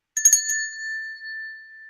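A handheld bell for Burning Man is struck once with a quick cluster of metallic taps, then rings out as a clear, pure tone that slowly fades.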